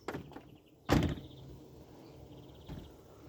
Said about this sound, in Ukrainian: Все, закривай двері.